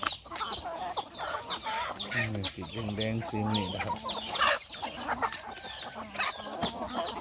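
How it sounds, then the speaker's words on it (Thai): A mother hen clucks repeatedly at close range in a backyard chicken coop, a run of short throaty clucks with higher chick peeps around it, while someone talks over the sounds. "ไก่แม่นะครับ ตอนนี้ไก่แม่เนี่ยค่อนข้างที่จะมั่นใจเนาะครับ"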